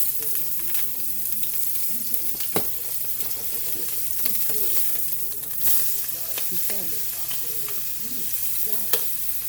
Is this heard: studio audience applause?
no